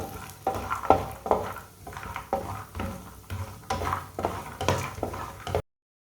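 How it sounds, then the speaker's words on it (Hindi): Pistachios and cashews roasting in a pan on low heat, stirred with a spoon: repeated scraping strokes in a steady rhythm with soft sizzling between them, close and fairly loud, ending abruptly. "पिस्ते और काजू को चम्मच चलाते हुए भूनना"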